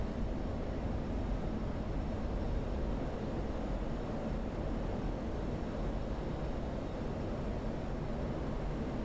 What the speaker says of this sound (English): Let's get the burners on too.